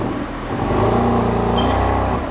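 A BMW M3 engine revving hard on a dyno, a loud steady roar that climbs in pitch over a couple of seconds, close and continuous with no talking.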